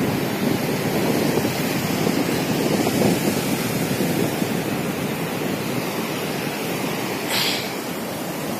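Sea waves wash onto a sandy beach in a steady, broad roar of surf that fills the whole stretch, close and loud, with wind noise over it and a brief hiss of water near the end.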